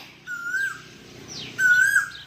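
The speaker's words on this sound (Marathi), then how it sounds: "कोकिळ काय भारी ओरडते" An Asian koel in a home garden gives two rising whistled calls about a second apart, clear and moderately near, over a quiet background.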